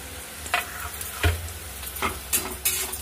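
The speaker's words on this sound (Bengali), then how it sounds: "আদা আর রসুন থেতো করে রেখেছিলাম যেটা, সেটাকেও আবার খানিকটা ভেজে নেবো" Crushed ginger, garlic and chopped green chili fry in a pan with a close sizzle, broken by four or five quick stirring scrapes at a steady pace.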